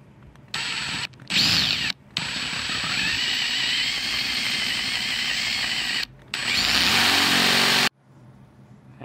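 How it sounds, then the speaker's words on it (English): A power drill bores into bare metal while fitting a lockable gate latch. It gives a long, steady whine with a few brief stops and restarts, heard close up and loud until it cuts off near the end. "whenever I drill bare metal"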